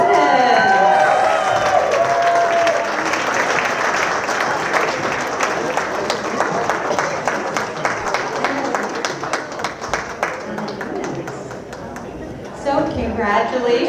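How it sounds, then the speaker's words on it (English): An audience at a Rotary Club installation ceremony applauds the incoming president. Loud, sustained clapping from a crowd starts strong and gradually thins, with a few cheers and murmurs mixed in. "One more round of applause for your incoming president."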